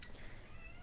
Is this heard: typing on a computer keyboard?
no